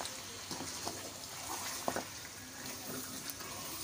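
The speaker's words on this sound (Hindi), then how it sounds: "अब इसे अच्छे से मिक्स करेंगे।" Spices being stirred into paye (goat or beef trotters) in a pot, a low sizzle with scattered spoon scrapes and one sharper clink near the middle, quiet and close.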